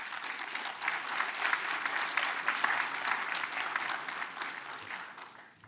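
Blueberry producers in a conference room applaud together in a steady burst of clapping that fills the space and then tapers off at the end, without speech over it.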